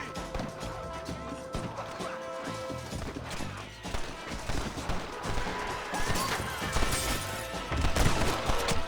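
Gunfire rattles through a Red Dead Redemption shootout, with dense, overlapping shots and crashes continuing without a break, while game voices shout over the chaos.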